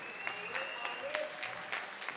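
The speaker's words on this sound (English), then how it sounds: "A huge congratulations, a big round of applause." Audience applause at an evening youth business awards ceremony in KZN as a winner is announced, a steady, fairly quiet patter of many hands that carries evenly from start to finish.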